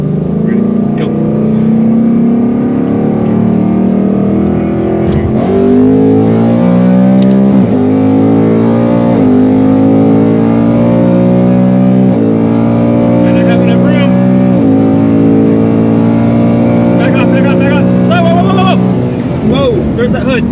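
Cars accelerate hard side by side in a roll race, one carrying a revised tune and a loose, flapping hood, heard from inside as a loud, rising engine roar climbing through repeated gear shifts, with voices talking over it.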